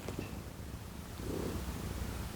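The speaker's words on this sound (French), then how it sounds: "Je sais pas si vous l'entendez ronronner." A cat purrs close up in a continuous low, rumbling rhythm, soft but steady throughout, with no talk over it.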